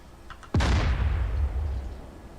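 A single heavy weapon shot fired at a vehicle in the DCS World flight simulator, a sudden loud boom with a deep rumbling tail that lingers about a second before fading.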